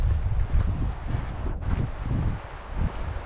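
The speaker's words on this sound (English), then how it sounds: "It's very windy today," Strong wind buffets the microphone in a continuous low roar on a Montana mountain trail, gusting and easing over a few seconds with no voices.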